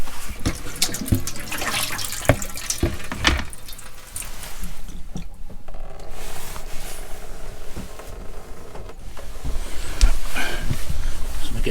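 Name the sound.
water draining out of camper boiler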